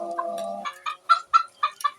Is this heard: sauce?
no